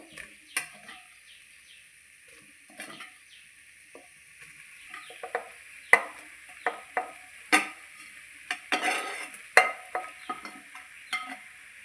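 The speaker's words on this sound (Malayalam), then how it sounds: "ഇനി പകുതി ഫ്രൈ ചെയ്ത് വെച്ച ചിക്കൻ ഇതിലേക്ക് ചേർത്ത് കൊടുക്കാം." Half-fried chicken goes into Kerala-style pepper masala in a pan and is stirred, with a steady light sizzle and repeated sharp scrapes and knocks of the spoon, close up and without speech.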